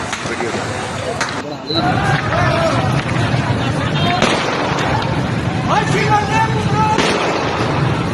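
Sharp gunshot-like bangs crack out repeatedly over a crowd's noisy babble at a street protest in Pakistan, several loud bursts spread through the scene with voices shouting and talking throughout.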